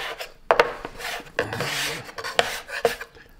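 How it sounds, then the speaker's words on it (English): A dough scraper rasps and scrapes across a wooden pasta work surface in several close, uneven strokes with short pauses, some sharp and some drawn out, with no voices. "And now we got this scrape and we clean up everything."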